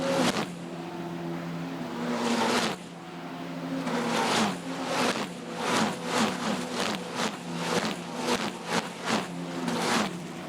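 Formula Regional race cars scream past one after another on a racetrack, with loud successive engine bursts rising and fading over a constant background roar.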